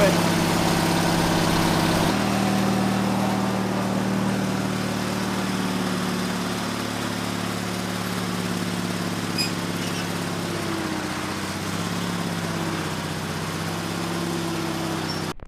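A tractor engine idles steadily nearby, a continuous low rumbling drone that shifts pitch slightly partway through, with faint talk underneath.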